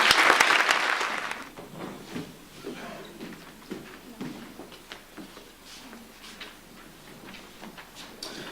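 A short burst of applause at a school certificate of achievement ceremony, loud for about a second then quickly dying away into faint room noise, scattered claps and murmuring voices.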